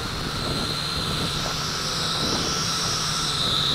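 RC Leading RC109F large FPV drone flying in strong wind, a continuous high whine of propellers over roaring wind buffeting, steady and fairly loud throughout.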